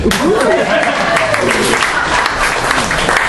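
A comedy-show crowd claps loudly and continuously for the MC, a close, full burst of applause with a voice briefly rising over it.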